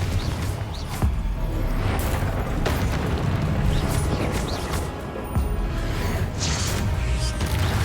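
Confringo fire-blast spell explosions in Hogwarts Legacy, a dense run of loud booming blasts and crackling bursts packed over a rumbling combat bed, with several sharp impacts.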